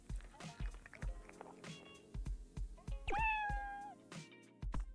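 In the video game Dave the Diver, a cat lets out one clear, rising-then-falling meow midway through a run of rhythmic thumping steps and busy game sounds.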